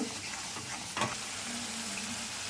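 Tomato paste sautéing in a pan with turmeric for a Kashmiri aloo dum, a steady close sizzle with one brief louder scrape of stirring partway through.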